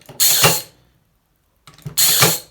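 A Parkside cordless nailer drives 32 mm nails through 15 mm plywood into pine board, firing two sharp, loud mechanical shots about a second and a half apart, with silence between.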